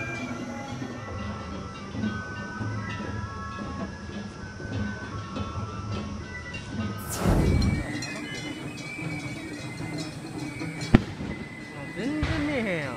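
Fireworks bursting at the Suitengu festival in Yorii, Saitama, Japan: a broad rumbling boom near the middle and a sharp crack later, heard over a steady crowd and ambient murmur with voices.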